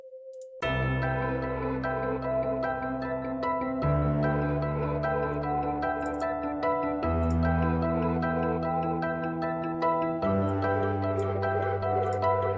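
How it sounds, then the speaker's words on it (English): Sustained synth pad from the one-shot kit Focus in an uptempo trap beat, playing loud, continuous layered chords that shift every few seconds with no talk over it. "I added this pad from my one-shot kit called Focus"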